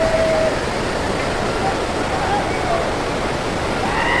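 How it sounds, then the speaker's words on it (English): Bekhal waterfall in Iraqi Kurdistan roars with a steady, loud broadband rush of falling water, continuous throughout, with faint voices of people talking in the background. "So this waterfall is called Bekhal"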